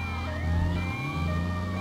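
An ambulance siren wails in GTA Vice City, its rising and falling tone close and continuous over a low engine drone.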